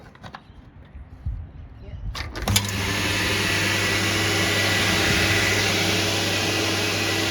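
A 1985 Karcher coin-operated car vacuum cleaner starts after a brief word and some handling clatter, then drones in a loud, steady whine that runs on unbroken to the end.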